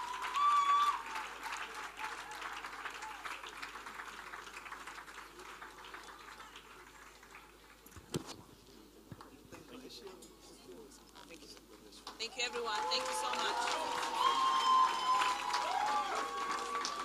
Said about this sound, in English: Can we make that clapping more louder?